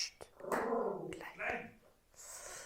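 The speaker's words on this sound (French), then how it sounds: "C'est mon chien." A pet dog indoors gives a short growl and yip-like bark, close and fairly quiet, followed by a brief whimper.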